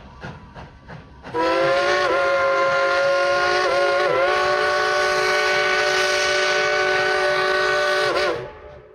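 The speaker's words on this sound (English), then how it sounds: "let's yell and tell the engineer to blow that whistle real loud" Steam train whistle of the Dollywood Express in the Smoky Mountains, one long loud sustained blast lasting about seven seconds with a brief dip midway, preceded by faint short sounds.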